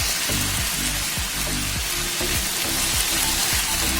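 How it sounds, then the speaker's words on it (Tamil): Elephant foot yam pieces frying in hot oil, a continuous dense sizzle and crackle with faint periodic bubbling underneath, steady and close throughout. "இது வந்து நல்ல ஒரு கோல்டன் ப்ரௌன் ஆகிற வரைக்கும் அப்படியே ஆயிலே நம்ம ஃப்ரை பண்ணணும்"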